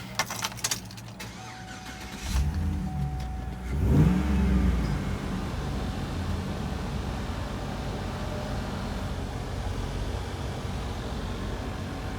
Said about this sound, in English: I'm going to start it up here for you.